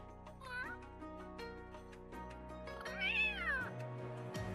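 A cat meows in The Sims 3 over steady game music, with two clear rising and falling meows, the second longer and louder.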